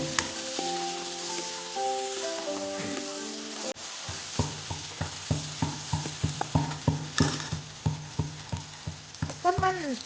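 Chopped onion fries in oil in a pan for momo soup, a soft sizzle with repeated rhythmic scraping and stirring strokes, preceded by a few seconds of melodic tones.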